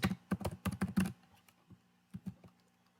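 Typing on a computer keyboard while writing Python code on Windows 10, with close, quick bursts of key clicks followed by a pause and a few more taps.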